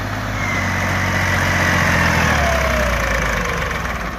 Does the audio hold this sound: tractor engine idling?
yes